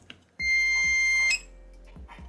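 A B-Side ZT5BQ clamp ammeter attached to a power supply lets out one sustained electronic beep of about a second, loud and close, framed by faint clicks and handling sounds.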